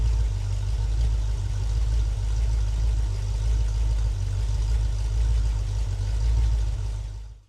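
A freshly rebuilt 302 engine runs steadily on its first break-in run, a loud, continuous low rumble close by that holds even throughout and then cuts off abruptly at the end.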